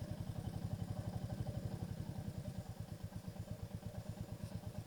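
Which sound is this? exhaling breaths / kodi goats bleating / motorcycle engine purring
motorcycle engine purring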